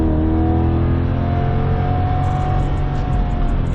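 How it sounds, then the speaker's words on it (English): A 2023 C8 Corvette HTC 70th Anniversary accelerating on the road during its break-in drive, a loud steady engine drone heard from inside the car with a rising tone and heavy low rumble throughout. "let's go ahead and just get on the gas a little bit and see how she feels"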